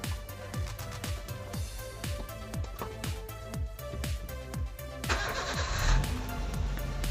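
A car's engine starts after its battery has been replaced, a rough broadband surge rising about two-thirds of the way through over a steady rhythmic background beat.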